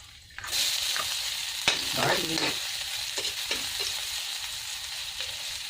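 Garlic hits hot olive oil in a pan and sizzles steadily, close and loud, with a few stirring scrapes partway through.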